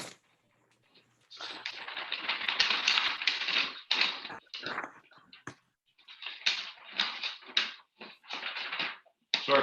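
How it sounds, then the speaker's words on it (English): Paper rustles and crinkles at a zoning board meeting, in irregular bursts of handling and shuffling close to the microphone with short quiet gaps between. "Sorry for getting a lot of paper noise."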